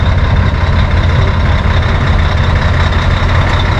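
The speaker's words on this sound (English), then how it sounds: "here's a tower ladder truck, a Mack tower ladder truck." A Mack tower ladder fire truck idles at an antique fire apparatus show, a loud, steady low diesel rumble that holds without change, close up.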